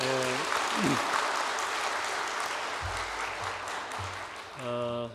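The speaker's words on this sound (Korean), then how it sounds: "우리 다시 한번 격려의 박수 한번 합시다" Sustained applause from a church congregation at a Sunday afternoon worship service, a dense wash of clapping that carries on for several seconds while someone sings or speaks over the start and the end.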